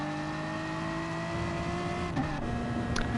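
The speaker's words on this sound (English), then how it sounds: "do you like the sound of that BMW there?" A BMW race car in a GT championship race, its engine droning steadily and loud with a sustained tonal whine, swelling slightly as it passes near the end.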